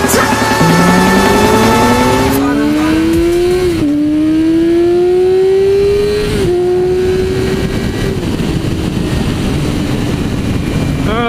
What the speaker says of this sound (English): Nick, he's in the lead right now on his 2018 Busa